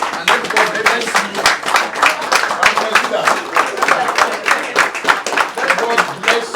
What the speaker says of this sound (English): can we stand up and give them a proper round of applause?